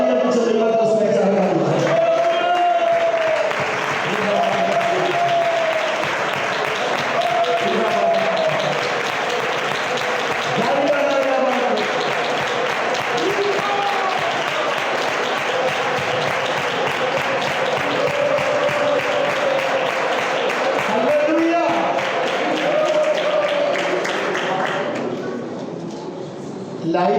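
A church congregation claps hands together during a Pentecostal class on the Holy Spirit, sustained broadband applause filling the room for most of the stretch while a voice speaks and sings over it.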